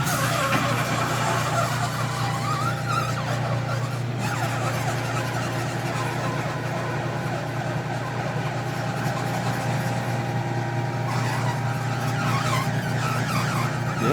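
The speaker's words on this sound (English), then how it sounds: "It's the rear wheel scraping the exhaust." The rear wheel of a Honda Rebel 1100 motorcycle scrapes against its badly bent exhaust, giving a continuous grinding, rasping drone under a steady low engine hum that runs the whole way through without talk.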